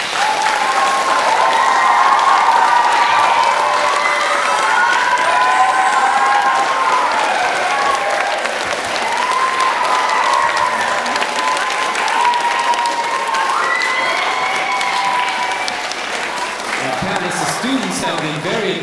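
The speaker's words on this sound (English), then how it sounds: "Students, could you give our panelists a round of applause?" A crowd of elementary school students applauds panelists at a Black History Month panel, with loud sustained clapping running throughout and a voice speaking over it.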